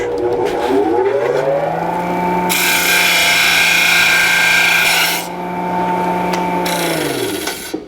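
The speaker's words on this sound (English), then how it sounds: "we're going to grind the bracket down" Power grinder cutting down a shifter cable bracket for a Hurst Quarter Stick install on a TH400 transmission in a 1949 Chevrolet: a loud, steady high whine that digs into a harsh grinding rasp in the middle, then winds down.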